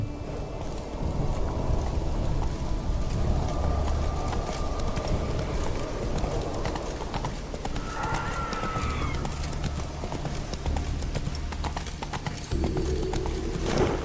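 Roach, Geralt's horse in The Witcher 3, clip-clops along at a steady trotting rhythm, hooves loud and close over a constant rumble of ambient wind and water, with a brief whinny partway through.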